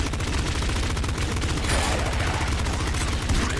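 Dense, continuous weapon gunfire from the roguelike video game Nuclear Throne, rapid overlapping shots and bursts at loud, steady level without a break, no voices.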